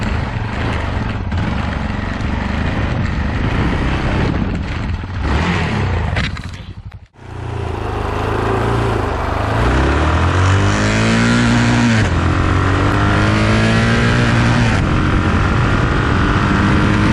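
Engine of a 2011 Yamaha XTZ660 Tenere motorcycle revs loudly and close by. It drops out briefly partway through, then rises again in several rising and falling rev sweeps.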